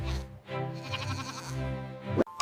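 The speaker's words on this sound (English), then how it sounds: "It's a goat" A goat bleats in one long, wavering, nasal cry that carries on for about two seconds, loud and close, ending with a short sharp click.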